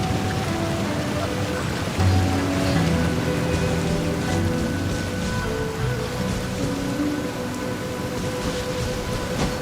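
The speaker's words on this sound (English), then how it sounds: "I'm used to the rain, but you should probably use an umbrella." Steady, heavy rain falls in Genshin Impact, a dense continuous hiss of drops hitting surfaces that stays loud throughout, with a faint low rumble underneath and no voices.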